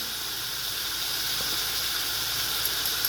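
Spices and chili and turmeric powder fry in hot oil for a tangra fish curry with potatoes and lentil dumplings, giving a steady, close, even sizzling hiss that runs without a break and with no voice over it.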